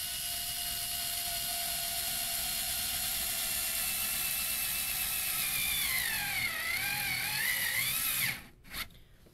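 Black & Decker Gyro electric screwdriver whirs steadily while driving a self-tapping screw, a close high-pitched motor tone that rises and wavers under load before stopping abruptly with a couple of clicks.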